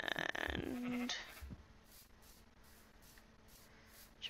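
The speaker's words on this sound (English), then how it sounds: "Let's get some sheep." A single short sheep bleat from Minecraft rings out near the start, followed by quiet scuffling and soft rhythmic shuffles.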